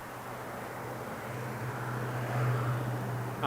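A Southwest airliner at Las Vegas Harry Reid International Airport gives a steady low jet rumble that swells gently toward the end, heard at a moderate distance with no talk over it.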